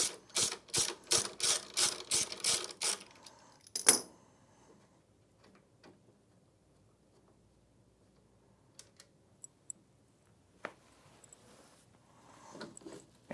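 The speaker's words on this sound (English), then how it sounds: "Loosen the bolt, remembering to support the brush." A ratchet loosening a bolt on an IKON copier: about eight quick, sharp ratcheting clicks in a steady rhythm, then a clunk, followed by quiet with scattered faint metallic taps.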